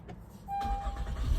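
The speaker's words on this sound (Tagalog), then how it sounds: "paandarin na natin yung sasakyan" A 2017 Honda Pilot engine starts after an oil change: a brief starter whir gives way to a catch and a low, steady idle rumble that continues to the end with no speech.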